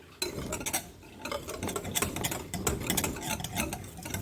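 Banana apam batter is stirred quickly in a bowl, with fast, continuous scraping and tapping close by and no talking.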